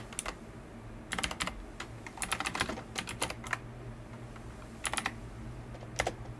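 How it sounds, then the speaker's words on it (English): Bursts of clicky keystrokes on a nearby tactile computer keyboard, coming in irregular clusters with short pauses between them against a quiet background hum. "Hopefully you guys don't mind the clacking of the keyboard."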